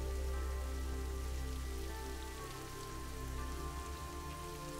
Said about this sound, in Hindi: हल्की हल्की बूंदाबांदी हो रही है।